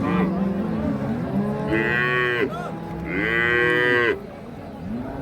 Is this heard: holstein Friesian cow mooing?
yes